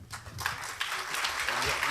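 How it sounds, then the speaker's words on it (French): Audience applause at a French round-table conference on social care and values, a brief burst of dense clapping that swells and holds steady with some voices mixed in. "Je me propose encore de les applaudir."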